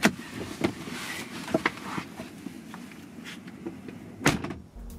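A Porsche 996 Carrera door opens with a few sharp clicks and clunks of the latch and hinge, followed by light shuffling and a final thud, all fairly close and quiet.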